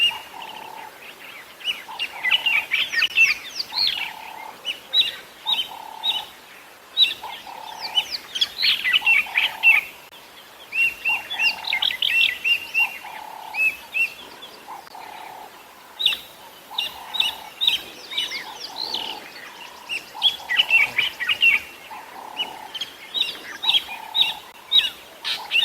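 Small birds mob Wahlberg's eagles at sunset on safari, giving loud repeated chattering and chirping calls in bursts, with a steady lower call pulsing underneath.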